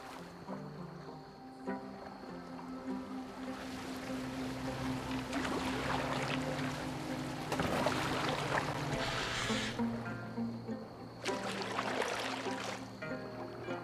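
Boat moving on water in Assassin's Creed Valhalla, a continuous wash of water and hull noise with wind, rising in surges, beneath a low droning musical score and no talk.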